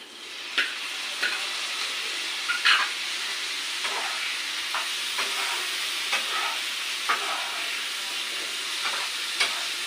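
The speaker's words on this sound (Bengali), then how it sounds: "এবার আমি টমেটোটি দিয়ে দেবো আমার পেঁয়াজ ভাজিটি হয়ে গিয়েছে" Onions frying in a pan with tomato just added, a steady close sizzle broken by stirring clinks and scrapes at irregular intervals, with no talking.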